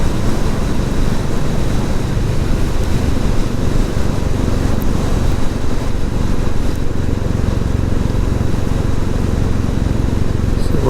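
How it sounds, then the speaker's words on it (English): Wind buffets hard and steadily while riding a Royal Enfield Classic 350 motorcycle past woods, a loud unbroken roar that drowns out any engine detail. "Get a bit of wind coming up as well."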